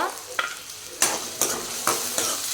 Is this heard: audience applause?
no